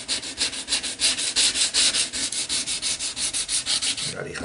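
Fine sandpaper rubbed back and forth along a wooden edge, about twenty quick, even strokes in a steady rhythm, close and fairly loud, alone with no voices.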